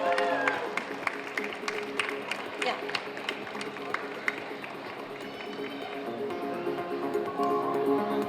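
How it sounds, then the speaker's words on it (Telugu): Audience applause at a NATA Thanksgiving Day gathering: a steady stretch of many hands clapping with crowd murmur, lasting the whole moment and swelling slightly toward the end, with voices mixed in. "ప్లీజ్ అందరూ ఒకసారి గట్టిగా చప్పట్లు కొట్టండి ప్లీజ్."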